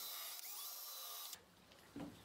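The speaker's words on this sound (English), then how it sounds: "Now I'll drill holes in the corners of the gutter pop." Power drill boring holes in the corners of a rainwater gutter outlet, a close whining drive that runs steadily for over a second, then stops, followed by a brief tool clunk.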